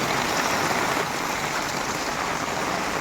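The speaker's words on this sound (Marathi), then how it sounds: "पाण्याचा जो प्रवाह वाहता इसून तो बघा इसर झोद हा जोरदार" Fast-flowing floodwater rushes steadily and loudly after heavy rain in Konkan, a continuous dense roar with no pauses.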